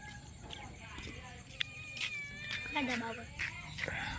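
A cat meows repeatedly on a rainy day, its drawn-out cries rising and falling beneath a person's talk and steady background noise.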